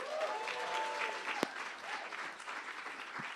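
An audience at The Bedford music venue claps for a singer, a fairly quiet, steady spread of applause with a brief sharp knock partway through.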